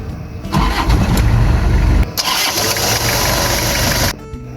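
A 1999 Toyota Kijang Krista 2.4 diesel engine with manual transmission cranks and catches, then settles into a steady, loud running hum, close by, with no talking.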